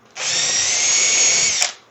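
A power drill runs in a single close, loud burst of just under two seconds, its high whine holding steady as it marks a cabinet door through a wooden jig, then spins down abruptly.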